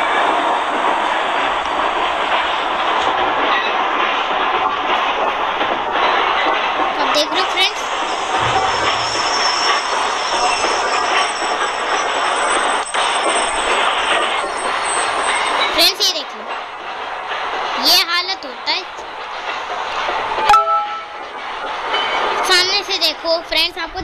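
Indian passenger train heard from inside an AC coach during a crossing, with a steady loud rolling rumble and wheel noise throughout, occasional sharp squeals and clatter near the end, and people talking in the background.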